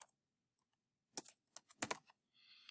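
Typing of the word tungsten on a computer keyboard, heard as a few quick clusters of near, crisp key clicks with short gaps between them, followed by a faint hiss.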